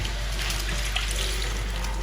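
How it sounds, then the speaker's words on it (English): Water trickling and splashing as hands are rinsed with a small amount of water while cooking a Nigerian kpomo stew, a steady faucet-like flow with a constant low hum beneath. "I'll just use small water to rinse off my hands."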